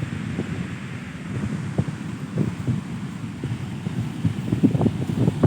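Large ocean waves break and crash on a beach in a steady, rolling roar, with heavy wind buffeting the microphone throughout and no talking.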